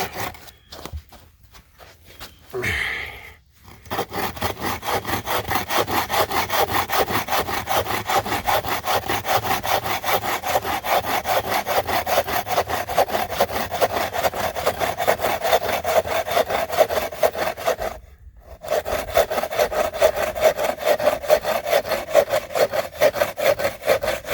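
A hand saw coated with WD-40 cuts steadily through wood outdoors at a camp, its fast, even strokes rasping close and loud. The cutting stops briefly twice before resuming.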